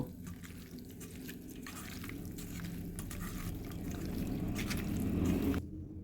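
Chicken being mixed by hand with mustard oil, soft wet squelching and dripping sounds close up, continuous and fairly quiet, cutting off abruptly near the end.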